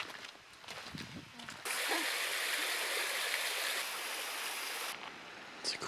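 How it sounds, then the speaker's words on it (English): Water rushing at a waterfall and flowing stream on a nature trip, a broad, loud roar that swells in after a quieter opening with voices and carries on steadily before easing near the end. "It's a cool waterfall."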